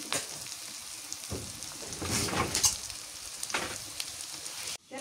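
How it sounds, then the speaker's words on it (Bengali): Chopped onions frying in hot oil in a village kitchen, a steady close sizzle with occasional stirring scrapes, continuous throughout with no talking. "পেঁয়াজ কুচি দিয়ে তেলানিটা ভালো করে ভাইজে না নাকি, ভালো করে ভাইজে নেই"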